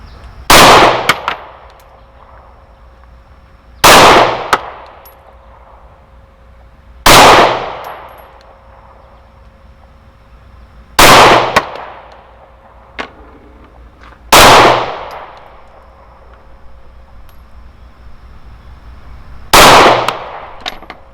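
A Stoeger STR-9 pistol fires Blazer brass ammunition at an outdoor range: six sharp, loud shots spaced roughly three seconds apart, each cracking and ringing out briefly before fading into quiet background.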